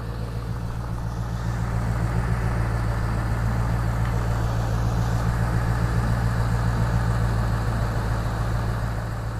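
Ford Mustang GT 2018 with its 5-litre Coyote V8 running at a steady idle, a deep continuous rumble that swells slightly after the start and stays even throughout, nearby with no talk.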